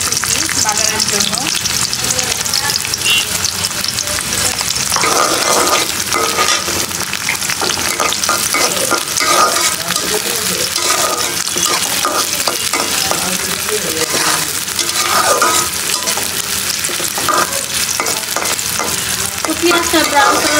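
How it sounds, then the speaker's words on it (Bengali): Chopped onion fries hard in hot oil for tempering, a loud crackling sizzle up close, broken by repeated scraping stirs of a spoon across the pan over about twenty seconds. "দিলাম কিছু পরিমাণ পেঁয়াজ কুচি বাগারের জন্য।"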